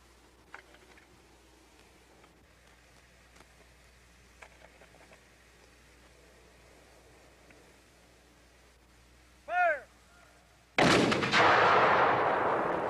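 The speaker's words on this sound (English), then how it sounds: "Once fired, the gun has to be cooled off and cleaned out." A 12 lb. Napoleon Civil War cannon fires once during an artillery drill, a sudden loud boom with a long roaring, rumbling decay that follows a quiet stretch of faint outdoor sounds.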